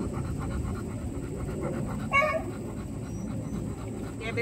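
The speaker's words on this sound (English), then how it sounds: "This is Fancy. She's one of the three tricolors we got here at the kennel." A tricolor kennel dog pants close by in a quick, steady rhythm, with a faint voice briefly in the background.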